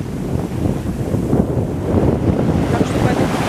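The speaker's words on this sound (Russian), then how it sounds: "Несмотря на то, что дует ветерок такой прохладный" Steady, cool gusty wind on a beach in Spain buffets the microphone, a constant low rumble with a faint wash of surf in the background.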